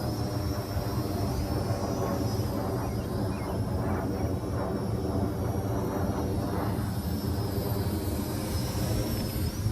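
A Syma X9 Flycar drone makes flybys in gusty wind, its small propellers giving a continuous buzzing whine that blends with steady wind rush throughout, with no voices.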